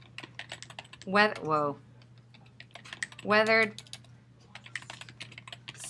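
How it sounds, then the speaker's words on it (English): Rapid clicks from a computer keyboard run through the whole stretch, close and crisp, while a voice speaks briefly twice over the typing. "I'm going to go up to Google and type in"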